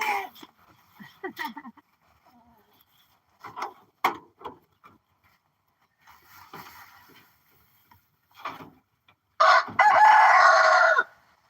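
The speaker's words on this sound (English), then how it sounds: "You're gonna hear roosters like constantly." A rooster crows loudly nearby near the end, after scattered clucking, rustling and brief talk.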